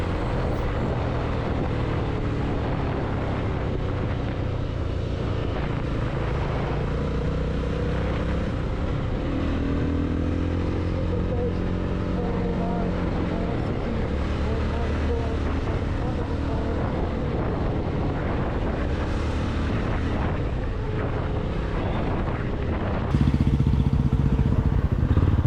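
A Jawa 42 FJ motorcycle engine hums steadily while being ridden, a continuous low drone mixed with wind rush that grows slightly louder near the end.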